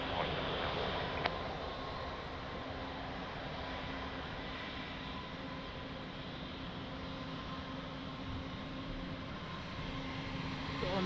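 Aircraft holding on runway 02 at Lisbon Airport while lining up, its engines giving a steady, continuous roar at moderate distance with no breaks or voices.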